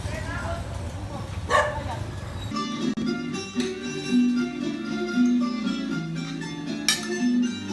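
A stray dog barks and yips several times at a distance while a person talks throughout, with some whimpering sounds mixed in.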